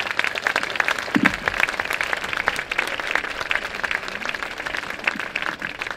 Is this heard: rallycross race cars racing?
no